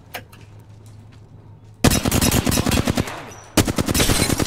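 Rapid automatic gunfire in a multiplayer shooter video game: faint scattered distant shots, then two loud close bursts of fast machine-gun fire separated by a short pause.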